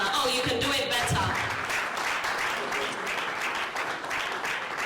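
An audience claps to welcome a speaker, the UNESCO representative to Ghana, at an entrepreneurship programme launch. The applause is dense and sustained, with a voice briefly audible near the start.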